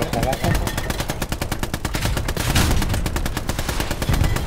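Machine gun fire in the World War II shooter Hell Let Loose, set on a hill at Kursk: fast, sustained bursts of rapid, evenly spaced cracks, loud and close, running almost nonstop.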